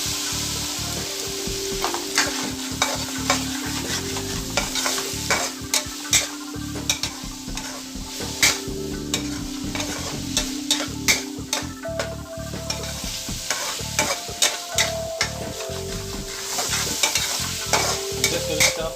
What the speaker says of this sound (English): I'm just going to stir fry this for another minute or so and take it off from the gas.